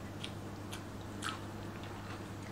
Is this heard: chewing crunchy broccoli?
yes